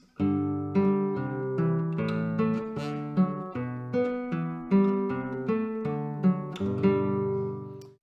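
Guitar melody played over a separate bass line, the upper part echoing the lower in imitation, steady plucked notes with no voices.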